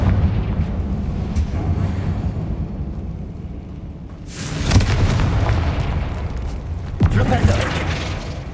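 In the video game Hogwarts Legacy, a Confringo fire spell bursts with a deep booming explosion over a low rumbling background, followed by a second sharper blast a few seconds later.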